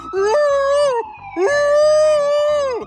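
A cartoon dog howls in imitation of a siren, two long rising-and-falling wails in a row, loud and close with no other sound.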